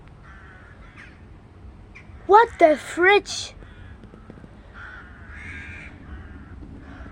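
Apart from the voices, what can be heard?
flock of ravens cawing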